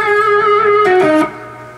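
Electric guitar lick from a lesson: sustained, distorted notes with a half bend and vibrato, then a quick pull-off to a lower note, played alone and fading briefly at the end.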